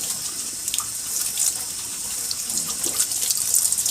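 A hose sprays water onto bean sprouts growing in a basket, a steady hissing splash that swells slightly louder toward the end, with no voices.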